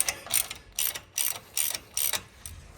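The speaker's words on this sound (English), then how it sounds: "for the support bracket bolts, just gonna tighten them up a little bit first" Ratchet wrench clicking in five quick rhythmic bursts, close and crisp, as support bracket bolts on a steering knuckle are tightened, with short pauses between strokes.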